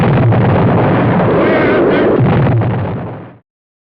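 Artillery fire from a 1960s war film rumbles in a loud, continuous roar of blasts and bursts that holds steady, then quickly dies away into silence.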